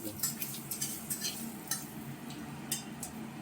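Sour dal with raw mango bubbling in a cooking pot, a quiet run of irregular soft pops and small clicks spaced unevenly over a low simmering hiss.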